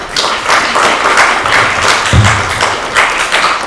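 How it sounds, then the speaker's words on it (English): A crowd at a literature celebration in Toronto applauds loudly, dense continuous clapping from many hands, close and sustained, with a dull thump partway through. "Would you please join with me to give them a big round of applause?"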